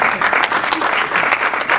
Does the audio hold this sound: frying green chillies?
no